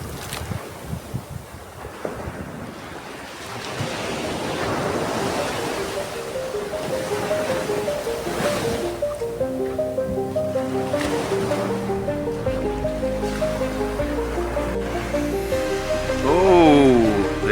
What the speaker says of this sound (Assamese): সাগৰৰ ঢৌ, চাওক।